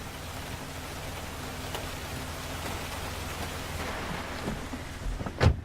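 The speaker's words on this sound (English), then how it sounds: "It's raining." Steady rain falls around a car at night in a horror film, a dense even hiss throughout with a louder sharp knock or splash near the end.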